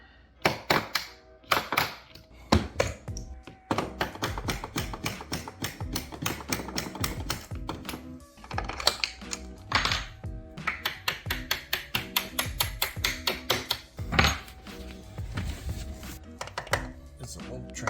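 Someone hammers a hinge remover to loosen a door hinge, producing sharp, irregular metallic knocks in quick bursts. Some strikes come in fast runs and others are spaced apart, with faint talk between them.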